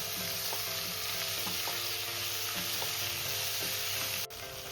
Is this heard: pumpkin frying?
yes